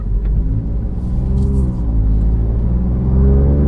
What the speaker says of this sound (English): it sounds so good for a V6